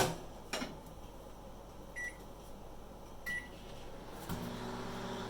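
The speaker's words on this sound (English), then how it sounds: "Putting them into the microwave on warm hold." Microwave oven humming steadily as it keeps cooked onions on warm hold in a home kitchen, with a few faint clicks and short beeps midway and a louder shift in the hum near the end.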